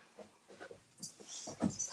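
Dogs whimpering and snuffling faintly, a few short soft yelps and whines in quick succession, quiet and close.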